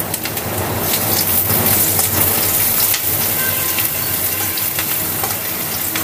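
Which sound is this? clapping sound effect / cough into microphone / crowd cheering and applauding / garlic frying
garlic frying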